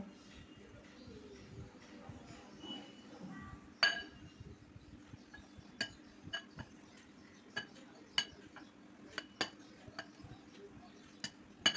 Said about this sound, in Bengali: একটা বাটিতে তিনটে সেদ্ধ আলু দিয়ে দিচ্ছি এবার ম্যাশ করে নেব